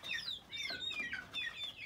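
A brooding hen clucks and chirps near a nest, a quick series of close, high-pitched calls repeating over a couple of seconds.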